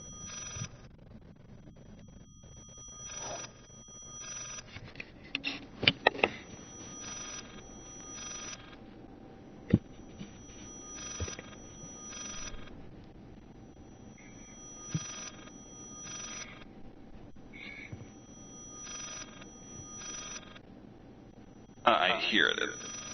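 A phone rings over and over in short high-pitched bursts during a PS4 live game broadcast, faint and regular behind background game sound, with a louder burst near the end.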